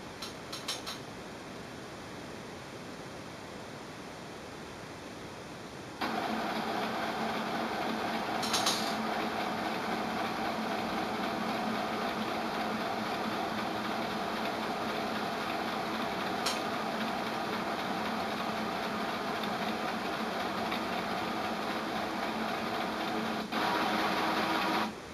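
An HP Deskjet 3720 printer scans a document, its scanner motor starting with a click and settling into a steady mechanical whir that runs alone for most of the clip.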